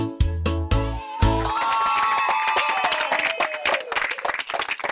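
Rhythmic clapping in a children's song about kids on a bus, loud sharp claps repeating quickly over bright musical accompaniment with singing.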